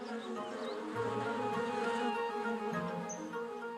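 Bees hum in a steady, layered drone close by, a continuous buzzing that swells slightly midway and carries on without voices.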